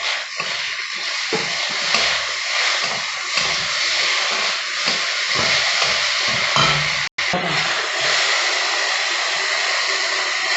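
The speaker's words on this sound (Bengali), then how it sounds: "বেগুন থেকে হালকা তেল ছাড়তে শুরু করছে, আমি আরেকটু ভেজে নেব।" Eggplant slices fry in oil in a pan for a summer neem-leaf eggplant dish, giving a loud, steady, close sizzle that holds throughout with one brief break partway through.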